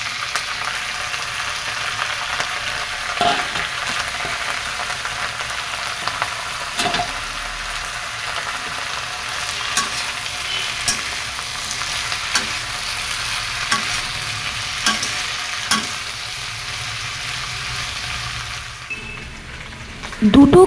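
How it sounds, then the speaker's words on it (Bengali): Potato and onion pieces fry on medium-high heat in a pan, giving a steady close sizzle. Repeated scraping knocks from stirring break through it at intervals, and no one speaks. "3 মিনিট নাড়াচাড়া করার পর আমি কেটে রাখা আলুগুলো এর মধ্যে দিয়ে দিচ্ছি।"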